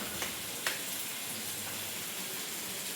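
Potatoes frying in a pan make a soft, continuous sizzle with a couple of faint clicks, fairly quiet and with no voices.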